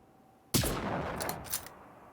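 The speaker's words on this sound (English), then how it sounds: "That's good shooting, Tex." A single sharp gunshot in the video game Generation Zero cracks out close and loud, followed by a brief echoing tail and a couple of faint distant pops as it fades.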